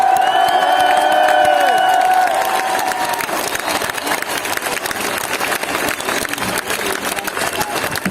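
A huge protest crowd in Paris roars and claps, a dense wash of cheering and applause that swells after a sustained tone fades away, continuing loud and close throughout.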